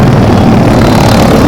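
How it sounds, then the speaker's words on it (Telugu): Motorbikes with their silencers removed roar through Haridwar traffic, a very loud, dense, continuous engine rumble right up close with no break and no talking. "ఒక్క బండికి సైలెన్సర్ లేదు. అన్ని సైలెన్సర్ ముట్టేశారు. అసలు చెవులు పగిలిపోతున్నాయి."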